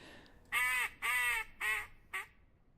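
A duck call sounds in a duck hunting game, four loud, raspy, nasal quacks in a halting rhythm, the last one short and clipped, heard up close with no talk over them.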